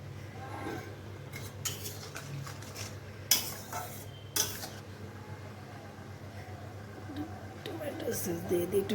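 A spoon clinks and scrapes in a pan while cornflour slurry is stirred, with a couple of sharper metallic knocks and faint sizzling beneath quiet background talk.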